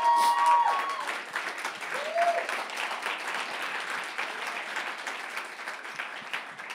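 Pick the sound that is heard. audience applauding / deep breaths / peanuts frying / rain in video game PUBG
audience applauding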